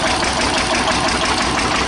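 A 1941 Witte one-cylinder diesel Dieselectric plant runs on a concrete driveway, giving a loud, dense, steady engine drone heard up close with no talk.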